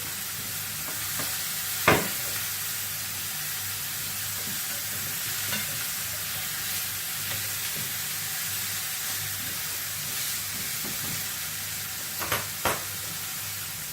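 A beef steak patty for a McDonald's-style hamburger fries steadily in a pan, with a constant broadband sizzle throughout, a sharp clack near two seconds and a couple of utensil taps toward the end.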